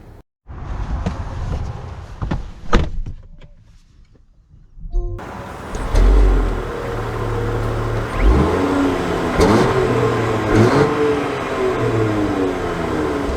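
A 2024 Range Rover Sport starts and pulls away, a few clunks and door sounds giving way to a steady engine and road hum that rises as it drives off.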